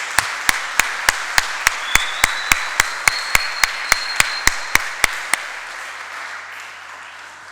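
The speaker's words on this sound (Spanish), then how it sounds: "Vamos a dar otro aplauso" A church congregation claps together in a steady, even rhythm, about sixteen sharp claps, then stops, leaving a low murmur of room noise.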